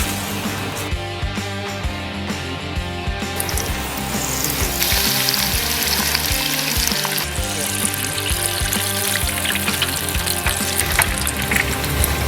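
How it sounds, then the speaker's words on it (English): Panko-coated stuffed jalapeño poppers dipped in buttermilk crackle and sizzle in hot oil while deep frying, a dense, steady bubbling hiss that carries on without a break and grows a little louder partway through. "So we've got our panko deep fried style ones."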